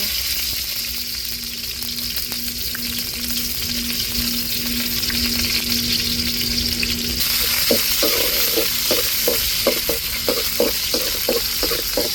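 Fenugreek seeds and onions frying in hot oil in a kadai, a loud, close, continuous sizzle that turns busier and crackling partway through, with rapid scrapes and stirring taps of a utensil against the pan and no talking.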